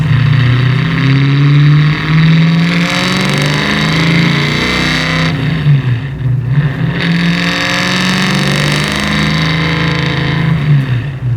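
550 hp 1963 Ford Falcon race car with SpinTech mufflers, a loud, deep V8 burble that rises and falls as the throttle opens and eases off, close and uncorked-sounding.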